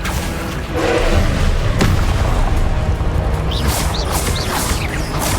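Confringo fire-blast spell in the Hogwarts Legacy video game, a loud booming explosion with crashing debris over a dense, continuous rumble of combat noise.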